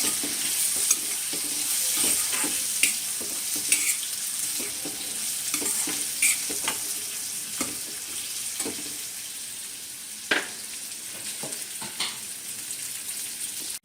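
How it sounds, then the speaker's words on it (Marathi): Chopped onion sautéing in a pan for a rice-grit breakfast dish, a constant close sizzle broken by repeated scraping and stirring strokes. "आपण आता कांदा घालूया त्याच्यामध्ये तर कांदा थोडा छान परतून घेऊया"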